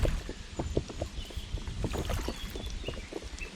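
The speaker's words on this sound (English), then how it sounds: "I'm just paddling on the right, just to cut across here." Canoe or kayak paddle strokes against a strong river flow between Teston Lock and Hampstead Lock, repeated splashing pulls over rushing water and heavy wind buffeting close to the microphone.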